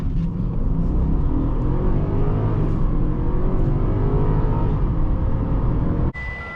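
A 2018 Genesis G80 5.0 V8 accelerating hard from inside the cabin: a loud, steady engine roar that climbs through the gears for about six seconds, then drops away abruptly.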